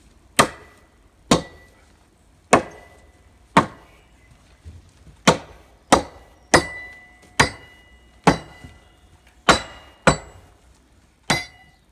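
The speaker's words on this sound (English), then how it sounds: "we'll drop the timber on top of that, hammer it down so it's nice and level," Timber is hammered down onto a metal section during a garden room build: a dozen loud, sharp blows land at a steady, slightly uneven pace, each ringing briefly, with no talk.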